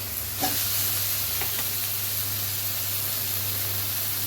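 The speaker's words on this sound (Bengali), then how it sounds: "ভাজা হয়ে গেছে এবার দেবো চিংড়ি মাছ" Prawns frying in a pan of oil with tomato, onion and garlic: a continuous hissing sizzle with a single scrape of stirring near the start and a couple of faint clinks after.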